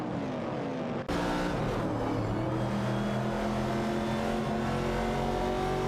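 Chevrolet Camaro '69 and Ford Falcon race cars in a racing video game, engines droning and revving steadily with layered tones, continuous and close after a brief cut near the start.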